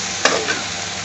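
Potato curry (aloo bhaji) ingredients stirred in a pan, a brief scrape of the spoon over a constant sizzle, heard up close without speech.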